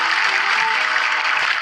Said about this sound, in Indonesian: Boleh tepuk tangan yang meriah lagi untuk Kausar Semarang